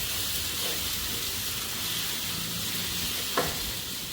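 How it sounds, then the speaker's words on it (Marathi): Okra stir-fry being stirred in a hot pan, a continuous close sizzle and hiss with faint scraping of the spoon and one brief clink near the end. "आता आपली भाजी हलवून झाली आहे"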